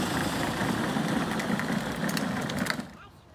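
A 12V Power Wheels ride-on toy car motor runs on an alternative battery with a steady electric whir and faint rattling, close by, then cuts out just before the end.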